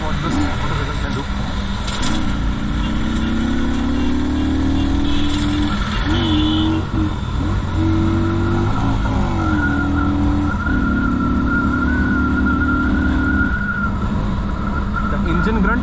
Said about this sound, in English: The engine grunt is what you can enjoy on the road.